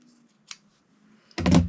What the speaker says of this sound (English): get this band cut off. We'll just make a little snip and cut around the edges